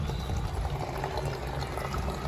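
Water poured over a pet parrot's head, heard as a steady, continuous splashing pour close by, with no voices present.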